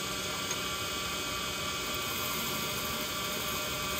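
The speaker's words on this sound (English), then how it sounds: "this negative rake scraper and we come across here and it'll clean that right up" Negative rake scraper taking a light finishing cut across a wooden platter spinning on a lathe: a steady, fairly quiet whirring hum of the running lathe with a faint continuous scraping, no voices.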